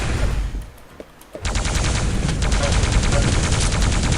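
Plasma gun in the arena shooter Quake Live fires a rapid, unbroken stream of loud bolts after a short quiet start, with a dense, even rattling rhythm up close.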